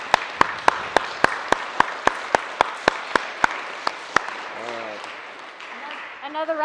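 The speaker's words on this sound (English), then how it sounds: "one more round of applause for you guys for Lonedell's graduating class of 2020" Audience at Lonedell Elementary's DARE graduation applauds the class of 2020: a dozen sharp, evenly spaced claps cut through a steady wash of clapping, which thins out before a voice begins speaking near the end.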